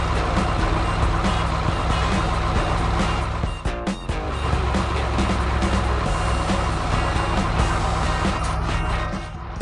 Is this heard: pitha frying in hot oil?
no